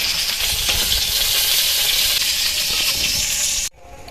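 Jackfruit paturi frying on low heat in a pan, pressed down and turned now and then, giving a loud continuous close sizzle and hiss that drops off abruptly to near quiet just before the end.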